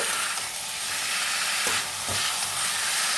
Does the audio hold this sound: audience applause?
no